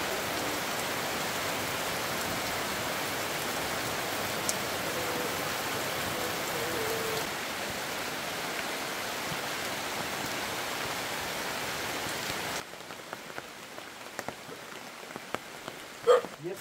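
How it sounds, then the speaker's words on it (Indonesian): Heavy rain falls in a steady dense hiss for about twelve seconds, then eases abruptly into scattered drips and light patter with occasional sharper drops. "hujannya turun dan cukup lumayan besar"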